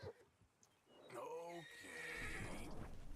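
A horse in Red Dead Redemption 2 lets out a loud, close whinny that rises and falls over about two seconds, following a quiet stretch with a few faint hoof sounds.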